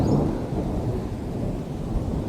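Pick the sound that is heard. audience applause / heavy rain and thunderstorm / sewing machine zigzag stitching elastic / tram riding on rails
heavy rain and thunderstorm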